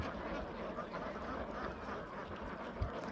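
Ducks quack on a farm where a large flock is raised, a dense, steady chatter of many birds at moderate distance, with a brief louder thump near the end.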